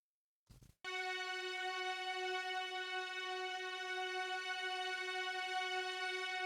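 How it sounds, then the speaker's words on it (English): A sustained synth string tone holds one steady note through the chorus of a guitar cover of a song, rich in harmonics, entering after a brief low thump and continuing evenly without change. "which is basically just one note"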